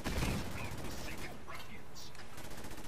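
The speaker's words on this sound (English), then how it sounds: "I shot it." Gunfire in the post-apocalyptic video game Fallout 4, a dense spray of rapid shots with game effects under constant background noise, while a player talks over it.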